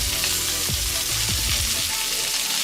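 Salmon fillet skin-side down and chorizo sausage frying in a pan, a steady loud close hiss and sizzle with light crackles and a few soft stirring scrapes, no voice over it.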